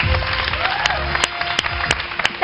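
Studio audience applause on a Hindi morning television show, a short burst of clapping under background music and a host's voice, with a few louder distinct claps.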